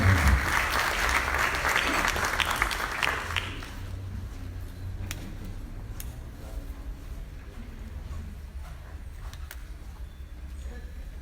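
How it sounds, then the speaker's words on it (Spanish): Audience applause at a university honorary doctorate ceremony, a dense wash of clapping that is loud at first, then thins to scattered claps over several seconds in a hall. "Fuerte aplauso para el doctor Andrés Maldonado."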